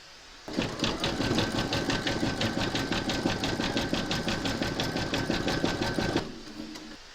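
A sewing machine stitching a crazy patchwork notebook cover, running in one steady, fast, rhythmic burst of close mechanical whirring for about six seconds before stopping, with no talk.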